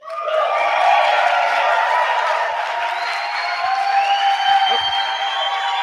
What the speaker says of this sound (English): let's make sure he hears the applause, though